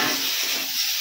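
Chopped tomatoes hit a pan of frying spice masala with chilli, coriander and cumin powders, a loud dense hiss of sizzling that fills the whole short moment without a break.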